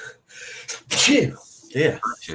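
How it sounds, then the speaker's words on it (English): A single sharp human sneeze in a room, sandwiched between casual conversation, with voices talking just before and right after it. "The sneeze."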